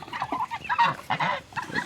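A goose honks several times in quick, uneven succession, nasal and close, with no other sounds around it.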